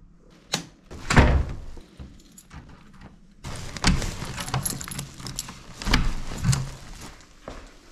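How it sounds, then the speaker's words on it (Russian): Car keys jangle near a Mitsubishi Airtrek, metal clinks and rattles in bursts along with a couple of door thunks, close and fairly loud, with no talking. "Не тот ключ. А вот тут ключ."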